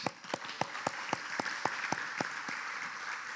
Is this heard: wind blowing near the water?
no